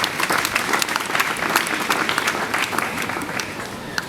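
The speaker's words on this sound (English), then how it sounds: "Join me in applauding them for their good work." Sustained audience applause fills a graduation ceremony hall, dense steady clapping from a large crowd lasting throughout without pause or voices over it.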